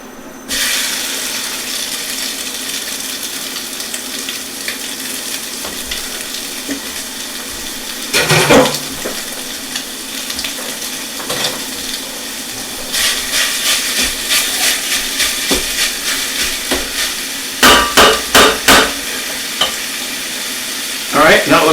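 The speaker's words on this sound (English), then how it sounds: "now let's go ahead and let's fry up our sausage here" Sausage frying in a pan, a steady close sizzle and hiss with bursts of stirring and sharp spatters growing louder toward the end, with no talking.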